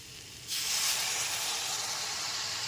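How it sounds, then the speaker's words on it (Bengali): Three cups of hot water poured into a pan of frying masoor lentils with green chilli sets off a sudden loud hissing sizzle that holds steady and close, with no one speaking. "এর মধ্যে দিয়ে দিচ্ছি তিন কাপ পরিমাণ গরম জল"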